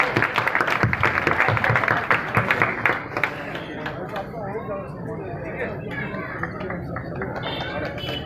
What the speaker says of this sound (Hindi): तालियों स्वागत करें